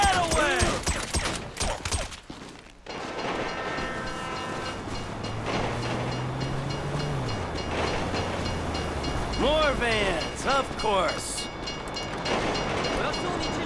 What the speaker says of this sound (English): you'd know the train comes by right now!